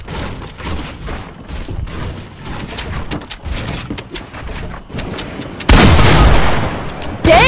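A bomb goes off in a video game: after several seconds of busy, clattering game sounds, a sudden loud, roaring blast swells and holds for over a second before cutting off.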